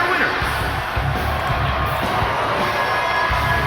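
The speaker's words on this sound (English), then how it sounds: "Crowd booing here." Wrestling arena crowd after a knockout punch, a steady dense roar of many voices filling the hall continuously, loud and sustained without a break.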